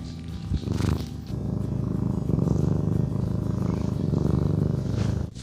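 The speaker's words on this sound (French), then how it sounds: "quel joli ronronnement." A house cat purrs loudly and close, a continuous rumbling purr with a rhythmic throb that keeps going for several seconds, briefly broken by a soft movement near the start.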